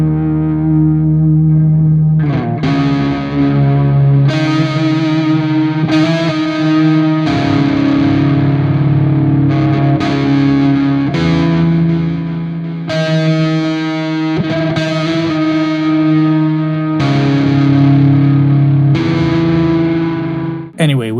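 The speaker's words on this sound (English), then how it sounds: "Put a reverb on top." Heavily distorted metal electric guitar through a Neural DSP Gojira X amp plugin with reverb on top, playing loud chugging chords and sustained riffs in repeated phrases, with a reverb tail ringing out at the end.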